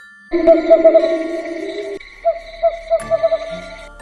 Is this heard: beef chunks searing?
no